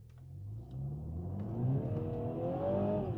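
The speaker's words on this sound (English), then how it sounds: "the car just shouts" A 2020 Mini John Cooper Works engine roars from standstill and climbs steadily in pitch as it accelerates hard from 0 to 60, with some wheelspin, loud and close, with no voices.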